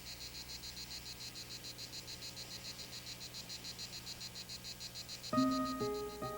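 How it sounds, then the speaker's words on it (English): Cicadas sing in the sunny Provence hills, a steady pulsing chorus that drones on throughout, with a louder tonal chirping joining near the end. "The warm sun intensifies flavors and calls forth the song of the cicadas."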